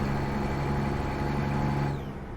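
Kenworth T680 with a Cummins X12 engine in American Truck Simulator, a steady mid-pitched engine drone holding revs before easing off briefly near the end as the gear changes up.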